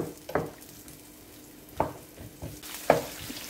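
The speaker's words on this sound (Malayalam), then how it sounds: "ആ നെയ്ക്കകത്ത് ഈ സവാള ഒന്ന് വഴണ്ട് വരട്ടെ" Chopped onion sautés in ghee over medium heat, a low sizzle broken by three sharp spoon scrapes and stirs against the pan, close and without talk.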